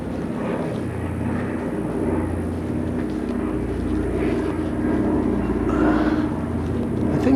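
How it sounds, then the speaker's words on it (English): A Douglas DC-3 propeller airplane drones overhead on a summer morning over a university campus. A steady, moderately distant engine hum runs throughout and swells slightly toward the end, with no talking. "there's a DC-3 up there flying around"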